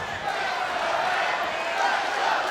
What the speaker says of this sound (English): Listen to this crowd in the impact zone.